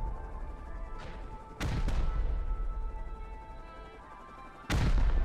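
Loud explosions from a base raid in the Rust survival game: a sharp blast near the start, two heavy booming hits in quick succession, then another loud explosion at the end over a steady rumbling background.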